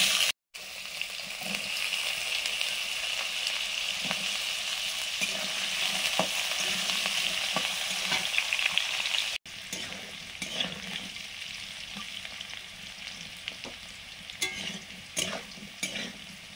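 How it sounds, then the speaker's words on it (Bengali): Potatoes for aloo dum frying in hot oil in a pan, a steady crackling sizzle with repeated scraping stirs, close and continuous, with a brief break partway through. "দমের আলুগুলো ভাজা হয়ে গেছে, নিয়ে নিচ্ছি।"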